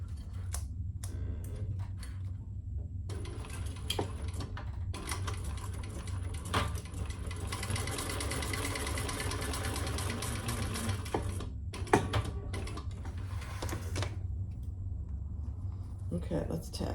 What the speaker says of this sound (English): stitch under that card slot